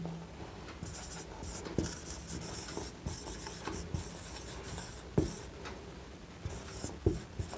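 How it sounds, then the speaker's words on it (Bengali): Chalk or marker writing on a board during a physics lesson, soft scratching strokes with a few sharper taps, quiet and close with no talk over it. "অর্থাৎ যদি বৈশিষ্ট্যগুলো লিখি আমি,"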